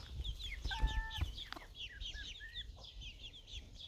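A rooster clucks nearby, short rhythmic clucks and a few higher squawks among other chickens, with light farmyard background noise.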